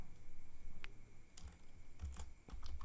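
Soft clicking of a computer keyboard as someone types and saves work in database software, a quiet, irregular patter of keystrokes over faint background hum.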